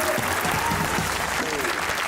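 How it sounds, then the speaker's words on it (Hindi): A TV comedy show audience claps steadily after a poem recitation, dense applause that holds at an even level throughout, with voices calling out over it. "तालियां होनी चाहिए"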